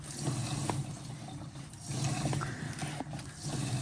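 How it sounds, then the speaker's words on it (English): A transfer pump not built for E85 fuel draws E85 out of a tank, a steady close mechanical whirring and rattling with liquid gurgling underneath. "this transfer pump isn't built for E85"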